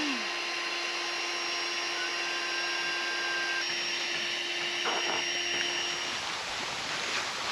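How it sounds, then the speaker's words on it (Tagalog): A handheld blower roars steadily at a fresh outdoor swimming spot, a continuous broadband whoosh with a high whine held throughout, loud and close with no talk. "Goods din tong blower na to, no? Lipad lahat ng latak ng nakaraan"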